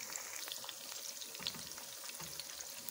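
Spinach pakoras fry in hot oil in a pan over medium heat, giving a steady close bubbling sizzle with small pops throughout and no talking.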